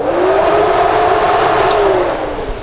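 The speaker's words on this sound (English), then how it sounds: "When I do, we'll hear the fans come on." Dual electric radiator cooling fans on a 1967-72 Chevy or GMC truck run with a loud, steady whooshing whir and a faint humming tone, close by and uninterrupted.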